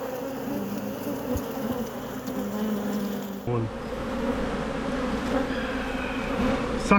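Honey bees buzz continuously at an open, strong hive while frames of brood and pollen are inspected. A close, dense drone holds steady throughout.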